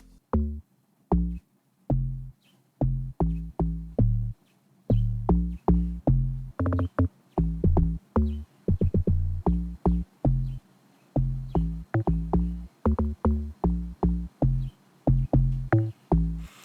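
Deep, punchy afrobeat log drum notes play in a steady syncopated groove, booming low tones repeating in quick rhythmic patterns with no voices.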